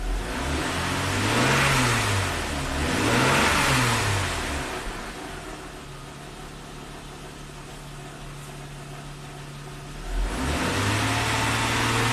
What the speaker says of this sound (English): I'm actually going to rev up the engine